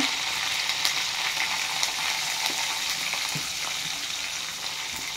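Spices tempering in hot oil with curry leaves, asafoetida and turmeric for a dal with mixed vegetables, a steady dense crackling sizzle close up that holds at an even level throughout, with no voices.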